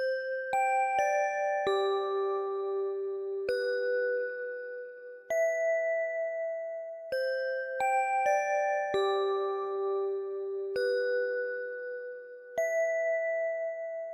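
Ambient trap beat melody of piano and bells with highs softened by EQ: spaced-out chiming notes ringing in a repeating pattern, loud and close, no voices.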